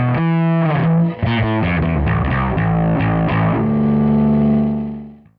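Fender Aerodyne bass played through a Boss Katana amp on its drive setting, a loud, heavily distorted run of picked notes and chords with a harsh, processed edge, ending on a sustained note that fades out.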